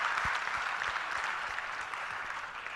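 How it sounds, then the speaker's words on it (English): An audience at a youth summit meeting applauds the panelists after a discussion, a steady even patter of many hands in a large hall, continuous and moderately distant, with no talking over it. "a round of applause for all the panelists,"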